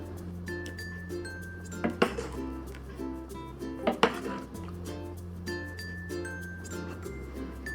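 Red bean tapioca soup ladled into a bowl, with a few soft clinks of utensil against bowl over a low steady hum, fairly quiet and close.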